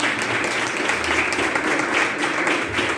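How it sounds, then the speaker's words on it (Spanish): An audience applauds the authors at a book presentation for Jacarandá Editora, a dense continuous wash of clapping filling the room at steady volume. "aplausos"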